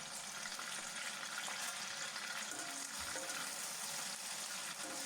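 Onion, green chilli and curry leaves frying in a hot tempering of seeds for foxtail millet upma produce a steady, dense crackling sizzle at low volume, without a break.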